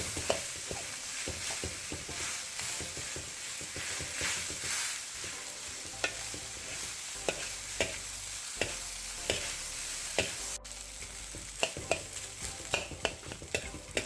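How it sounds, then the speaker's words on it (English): Cold rice stir-fried with halibut pieces in a hot pan, clumps broken apart: steady sizzling frying with repeated sharp scraping and stirring strokes, close and fairly loud, no talk. "So all I'm doing is I'm breaking these clumps up."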